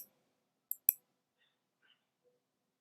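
A computer keyboard clicks faintly as someone types in a web address, just a few sparse, isolated keystrokes in an otherwise quiet room.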